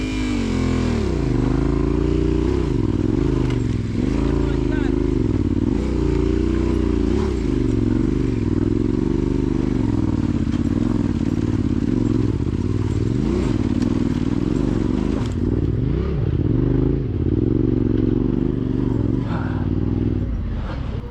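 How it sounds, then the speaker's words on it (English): An off-road motorcycle climbs a rocky mountain trail on Kingston Peak in Colorado, its engine loud and close throughout, constantly rising and falling in pitch as the rider works the throttle over uneven ground. "I fucking love this motorcycle."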